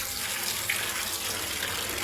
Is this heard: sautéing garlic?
no